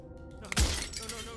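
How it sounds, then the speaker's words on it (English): Glass shatters in the video game Slay The Princess: a quiet lead-in gives way to one sudden, loud breaking crash with a bright splintering burst and a short trailing ring. "His pleas disappear at the sound of breaking glass."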